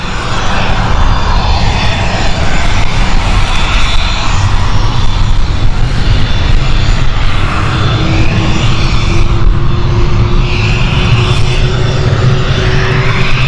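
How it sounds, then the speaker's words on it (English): An Embraer jet airliner starts up at London City Airport, a loud, steady engine roar with a whine that slowly climbs in pitch partway through, heard alone without talk. "we do have an Embraer starting up"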